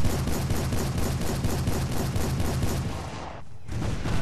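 A Civil War Gatling gun firing a long, dense, rapid stream of evenly spaced loud shots that breaks off for a brief gap before resuming.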